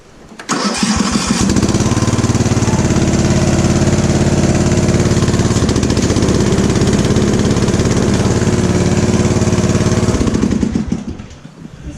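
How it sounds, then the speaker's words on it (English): A free riding mower's engine catches within the first second and runs at a loud, steady drone for about ten seconds before the sound tapers off. No voices are heard over it. "Free mower runs good."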